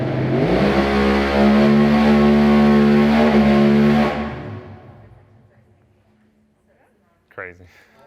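A 3,000+ horsepower Proline Racing engine roars through a dyno pull, a loud sustained harmonic howl holding steady for about four seconds before fading away, followed by a brief burst of voices.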